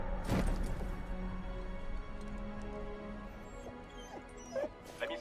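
A dog whimpers and gives a sharp yip over a steady low background hum, with a couple of further faint yelps near the end.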